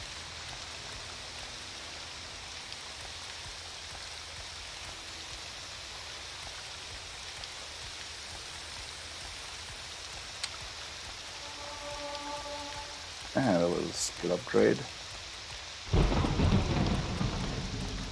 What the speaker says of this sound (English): Ooh, that's a bad storm.